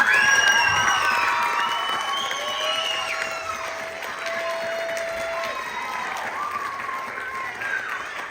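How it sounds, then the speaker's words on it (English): A crowd at a children's stage production of Peter Pan claps and cheers loudly, with whoops and children's shouts mixed into the sustained applause, which eases slightly but keeps going. "so give her a big round of applause."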